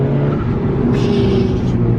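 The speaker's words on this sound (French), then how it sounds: "ce bruit du moteur qui est dans mes oreilles" Alfa Romeo 4C Competizione with a 250-horsepower turbocharged four-cylinder engine, loud and close as it drones steadily and then rises in pitch under acceleration, with a brief whooshing turbo hiss midway.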